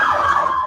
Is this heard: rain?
no